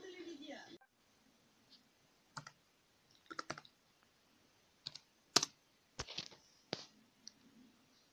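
Sparse keystrokes on a computer keyboard typing a Google search, in scattered clicks and short bursts of taps with quiet gaps between them, fairly faint and close by, with no voices.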